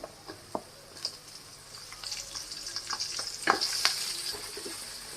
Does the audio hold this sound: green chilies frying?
yes